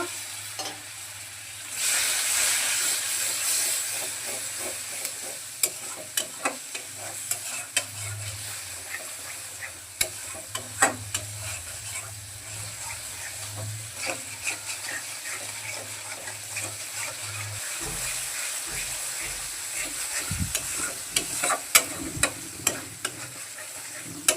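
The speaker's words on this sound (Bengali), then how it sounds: "দিয়ে দেবো অল্প পরিমাণ জল মশলাটাকে ভালোভাবে কষানোর জন্য" Masala of coriander powder and a little added water sizzles and fries in a pan for a Bengali tangra fish tel jal, stirred with frequent scraping clicks over a steady hiss, close and alone.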